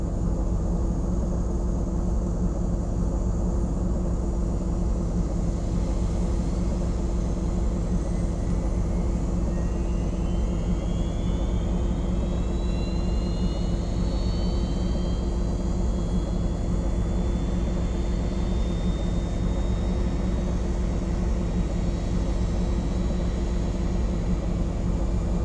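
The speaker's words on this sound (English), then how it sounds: "starting engine 2." A simulated Airbus A330 jet engine spools up in the X-Plane 11 flight simulator: a steady low rumbling drone with a faint whine rising in pitch midway through and holding to the end.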